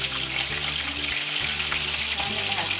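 Beef for Mongolian beef frying in a single layer in batches, a loud, dense, continuous sizzle close by with a brief stir partway through and no voices.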